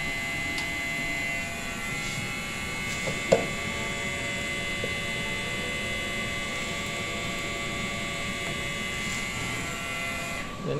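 A large-format printer running with a steady hum and tonal whine, constant and moderately loud, with a brief knock partway through.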